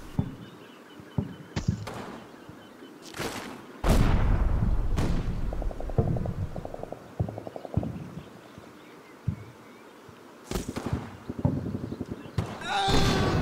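Gunfire in the Combat Mission wargame as a German squad takes fire from a hedge: scattered sharp shots and heavy thuds, with bursts of rapid crackling near the middle and end, over a low background rumble.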